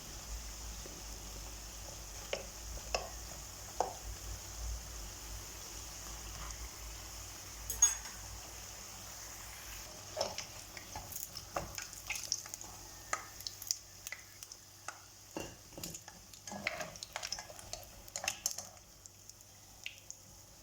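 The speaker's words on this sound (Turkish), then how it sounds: "pişmeyen kısımlarını tekrar Çevirelim, kızartalım" Pişi dough fries, sizzling and crackling in hot oil for the whole stretch, with soft scattered pops and the occasional stir or clink close by. No one speaks.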